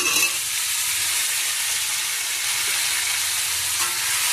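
Vegetables such as pointed gourd, spiny gourd and sweet potato sauté in hot oil in a pan, giving a steady, close, continuous sizzle with no pauses and no talk.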